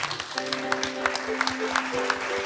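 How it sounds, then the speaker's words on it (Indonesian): An audience applauds with a burst of clapping, while sustained musical tones hum steadily underneath. "Kita berikan tepuk tangan sekali lagi"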